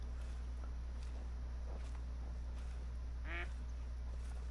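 Ducks in the hunting game Call of the Wild: a single faint, distant quack around the middle, with a few softer calls earlier, over a constant low hum of background noise.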